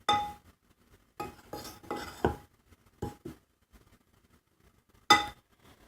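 Sifted almond flour and icing sugar are mixed in a bowl with a utensil, giving a handful of separate scraping and clinking strokes, a few of them close and sharp, with quiet pauses in between.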